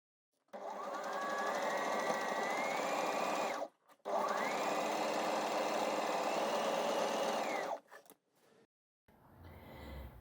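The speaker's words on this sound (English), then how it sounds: "When I sew this, I'm going to sew in between those gathering stitches" A sewing machine runs in two long steady stitching bursts through gathered fabric for a fringe dress, a close whirring hum with a brief pause between runs and a faint clatter after.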